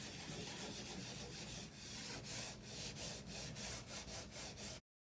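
Rhythmic scrubbing of greasy, sticky kitchen cabinets with degreaser, a close, steady back-and-forth rubbing that gets stronger in regular strokes before cutting off abruptly.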